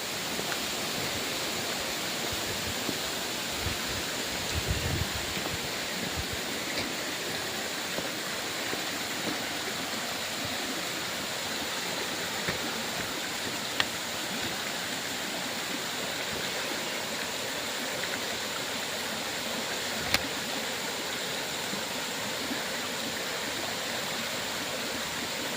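A stream flows continuously, a steady broad rushing and babbling of water close by, with no voices and only a couple of faint clicks.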